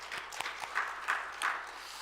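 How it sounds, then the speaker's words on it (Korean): Church congregation applauding together after a sermon, a faint, distant wash of clapping with a few louder swells, no voices over it. "우리 하나님께 큰 박수 한번 주십시오."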